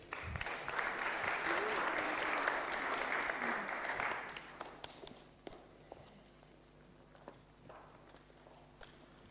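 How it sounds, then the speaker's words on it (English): A church congregation gives a round of applause for Bruce, a dense burst of clapping that lasts about four seconds and then thins to a few scattered claps and quiet room noise. "a round of applause for Bruce"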